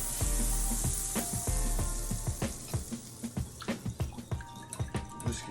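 Butter frying in a pan for French toast gives a steady close sizzle, joined by a series of rhythmic clinks and taps that grow more distinct as the sizzle eases, with no speech.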